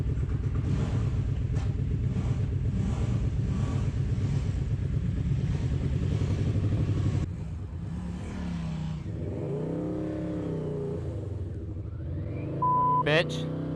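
A motorcycle is ridden nearby under heavy rushing wind and road noise, its engine pitch rising and falling as the rider shifts, ending with a short electronic beep.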